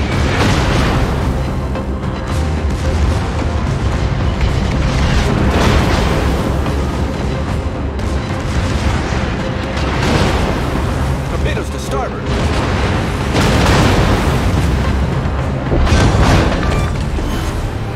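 Heavy booming explosions rumble as an enemy cruiser is destroyed in a Bismarck naval video game, repeated deep blasts swelling loud and continuous over a roaring battle background.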